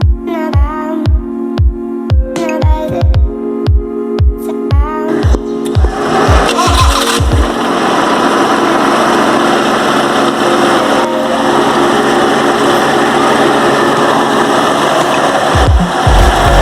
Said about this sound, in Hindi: स्टार्ट हो गई है गाड़ी।